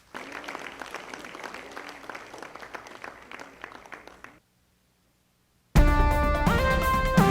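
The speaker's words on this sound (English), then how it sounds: "Give him a round of applause." An audience applauds an award recipient coming forward at a taxi association ball, the clapping steady for about four seconds before a pause and then loud music with vocals.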